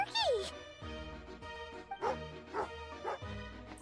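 A dog in the video game Genshin Impact gives a short series of barks and yips, close and clear, with a whining high call at the start and game music underneath.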